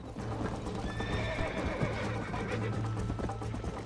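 A horse in Red Dead Redemption gallops with rapid rhythmic hoofbeats, letting out a whinny partway through over steady in-game background sound, close and clear, while a voice talks faintly beneath.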